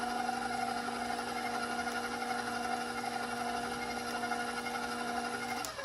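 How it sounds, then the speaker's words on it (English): Electric mixer running on its lowest speed through dry muffin ingredients, a steady close motor hum with an even tone, stopping with a clunk at the end. "I'm going to start my mixer off on the lowest setting so none of the dry ingredients fly out of the mixer."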